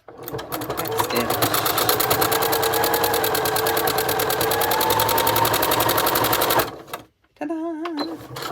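A sewing machine runs steadily while back stitching an ice cream cozy, a loud, close, rapid needle chatter for several seconds, then it stops and a short whirring burst follows.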